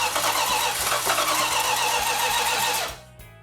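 A Mopar 340 V8 fitted with Corvette tri-power carburetors cranks over steadily on the starter without firing, loud and close for about three seconds before cutting off abruptly.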